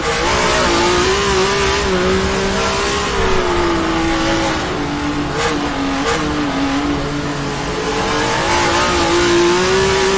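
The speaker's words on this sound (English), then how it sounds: "Sometimes you can add throttle just to spin the rear tires and get the car to straighten out." A race car engine in the rFactor 2 sim at Sebring howls loud and close, rising and falling in pitch as the throttle is worked, with brief blips and tire noise and no talk.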